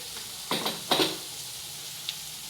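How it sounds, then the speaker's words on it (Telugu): Ginger frying in a pan for a mixed vegetable curry, a short low sizzle broken by a few quick clattering bursts of stirring, close and with no talk. "ఇప్పుడు ఈ అల్లం వేస్ట్ పచ్చివాసన పోయేంత వరకు మనం ఫ్రై చేసుకుందాం"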